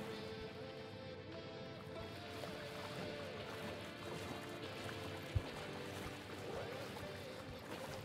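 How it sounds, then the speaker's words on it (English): A faucet left running in Alan Wake II gives a steady, faint rush of pouring water that continues throughout, with a single soft knock partway through. "Someone left the faucet on."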